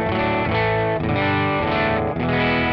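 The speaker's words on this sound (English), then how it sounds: "if I bring the voice and the drive up and the level down, I'll get a dirty guitar sound" Dirty, distorted electric guitar through a NUX Cerberus pedal with the drive raised and level lowered, giving a thick, continuous wall of chords that shift a few times, loud and close with no talking.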